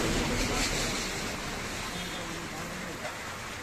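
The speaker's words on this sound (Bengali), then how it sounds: "প্রচুর বৃষ্টি হচ্ছে" Heavy rain pours steadily at Barut, a dense, loud, even hiss that fills the whole clip and eases slightly toward the end.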